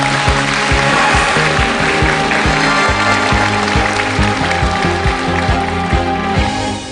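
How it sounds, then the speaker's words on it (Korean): Audience applause at a televised Korean lecture show greets a speaker taking the stage, a steady wash of clapping running under loud rhythmic walk-on music for the whole stretch. "자 같이 박수를 청해서 들어보겠습니다."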